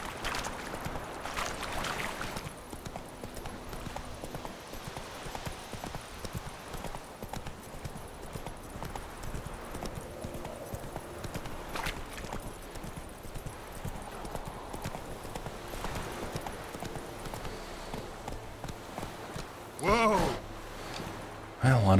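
Horse hooves clip-clop steadily in The Witcher 3 video game, a continuous rhythmic trot under game ambience, with a couple of louder thumps near the end.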